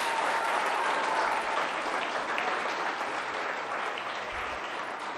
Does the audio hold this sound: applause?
yes